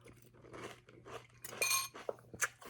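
Honey Bunches of Oats Sugar Cookie cereal crunched while eating, wet from milk, with a series of close, irregular crunchy bites and a few clinks of a spoon against the bowl.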